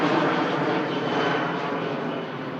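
A Jet2 Boeing 737 roars on the runway at Manchester Airport, a broad, loud, steady jet-engine rush that fades slightly as the aircraft moves away.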